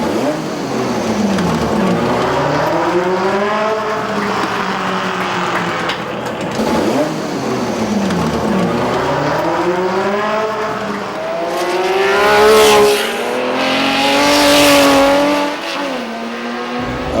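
Lotus Elan race cars at a historic grand prix rush past one after another, engines rising and falling in pitch as they accelerate, shift and fade, loud and close without commentary.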